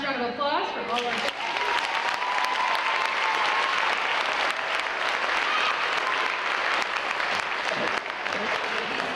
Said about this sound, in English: We'll do one last round of applause for all our...